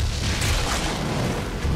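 A bomb blast in Monster Hunter 3 Ultimate HD during a G-rank Deviljho hunt, heard as a loud, sustained booming rumble with broadband roar that fills the whole moment without a pause.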